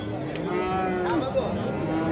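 Cattle at a livestock bazaar in Kattakurgan, Samarkand, give a loud, drawn-out moo close by, its tone sliding over a steady crowd murmur and market noise.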